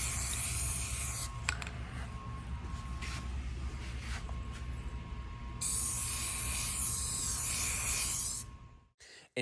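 A spray can hisses out a light coat of paint onto aluminum engine parts for a Ford Falcon restoration, two long close bursts separated by a softer stretch, ending abruptly.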